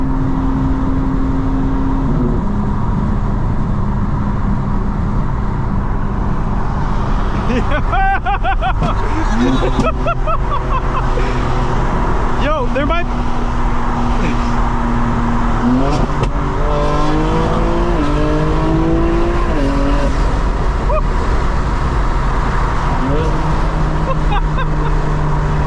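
A 900hp 2025 BMW M4 Competition xDrive drives hard, its engine droning loud and steady throughout with rising and falling revs as it accelerates and shifts, cabin noise heavy.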